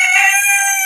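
A rooster crows once, close and loud, a bright strained call held for under a second.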